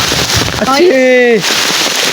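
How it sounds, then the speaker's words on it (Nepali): Dense, crackling patter of hail striking surfaces all around on a hiking trail from Godavari to Phulchoki, with a voice briefly calling out a drawn-out tone over it. "असिना परिरहेछ"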